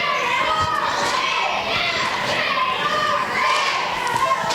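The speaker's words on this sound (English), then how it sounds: "there is a lot of cheering coming from SAR" A school crowd of young voices keeps up continuous shouting and cheering in an arena during a girls' hockey game, dense and loud throughout, with occasional thuds under the noise.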